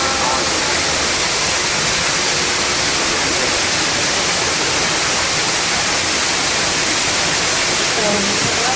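A waterfall roars steadily into a holding pool, a loud, dense, unbroken rush of water that fills the whole clip without pause.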